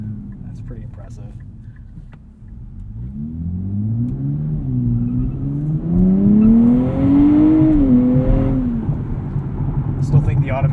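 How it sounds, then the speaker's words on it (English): A 2023 Nissan Z with its 9-speed automatic in Sport mode rumbles and revs from inside the cabin, the engine note rising and dipping through blipped downshifts, loud and close, while a driver talks over it. "Sport mode, you'll get some blipped downshifts from the 9-speed automatic."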